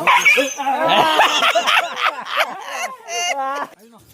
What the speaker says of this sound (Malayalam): പന്നിക്ക് ആറോ വെച്ച കെണിയിലേതായ ഒരു പട്ടി കുടുങ്ങുന്നു